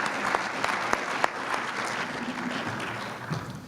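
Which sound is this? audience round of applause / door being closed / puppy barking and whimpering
audience round of applause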